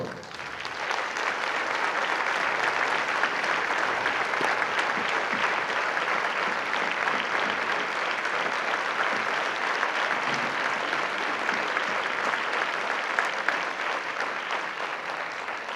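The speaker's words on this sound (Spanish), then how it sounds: "Recibimos a nuestro director Jaime Román Bustamante con un fuerte aplauso" An audience at a Holy Week music event in Valdepeñas welcomes the band director Jaime Román Bustamante with loud, sustained applause that stays dense and even for about fifteen seconds.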